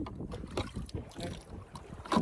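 A small fishing boat being paddled at sea after its engine failed far offshore, with gentle water sloshing and irregular paddle strokes under steady wind noise, close to the microphone.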